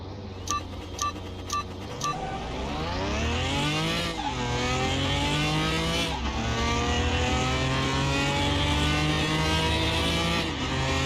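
A supercharged C1 car in Car Mechanic Simulator 2021 revs up hard after a few short beeps. The engine whine climbs steadily through several gear shifts, loud and continuous, with no talking.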